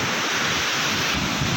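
Strong wind buffets the microphone at a seashore, blending with a steady roar of surf into a loud, continuous rush with no voices.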